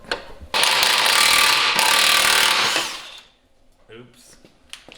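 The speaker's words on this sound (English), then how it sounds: "So I'm gonna take this bolt out, get some blue Loctite on there, and tighten it back in" A ratchet spinning on a bolt in a Porsche 911 engine bay, giving a loud, steady rapid clicking buzz for about two seconds close up, then trailing off into quieter handling noises.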